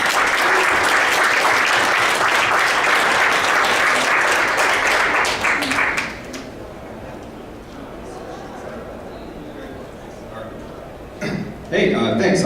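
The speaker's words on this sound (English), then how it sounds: "please a warm round of applause for Drew Klein" Loud audience applause fills a hall at a liberty-themed event, dense clapping for about six seconds before fading to a low murmur, with a brief spatter of claps near the end.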